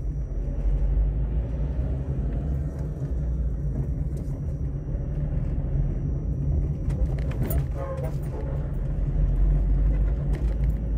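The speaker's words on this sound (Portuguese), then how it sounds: "Agora vamos nos surpreender com a quantidade de carro," Busy street traffic with many cars passing, a continuous low rumble of engines and tyres filling the scene, with a brief rattle partway through and faint voices now and then.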